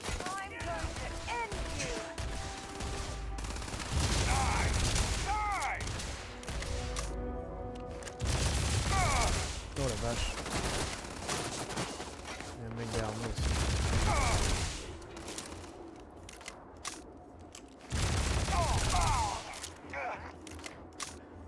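Automatic weapon fire in Starfield comes in loud, repeated bursts a few seconds apart, with someone talking between and over the shooting.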